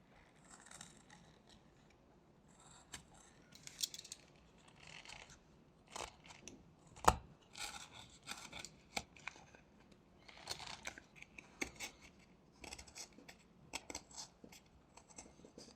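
Carving knife whittling a small wooden sleeping koala, paring off small chunks: quiet, intermittent scraping and ticking cuts with short irregular strokes, close but faint.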